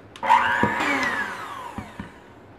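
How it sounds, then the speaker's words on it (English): An electric mixer creams butter for a coffee crumb cake, giving a close, loud motor whine that swells and slowly falls in pitch over a couple of seconds, with a few knocks of the beaters in the bowl. "then I'm going to take my electric mixer"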